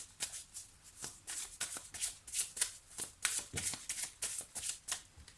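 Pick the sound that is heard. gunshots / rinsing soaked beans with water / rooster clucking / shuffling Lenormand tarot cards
shuffling Lenormand tarot cards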